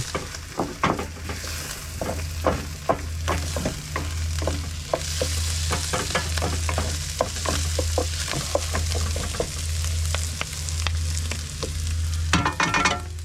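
Food is stirred and mixed in a pan in a camper van parked by a beach, giving a continuous sizzle with rapid, irregular spoon scrapes and clicks against the pan, close and clear, ending in a louder clatter.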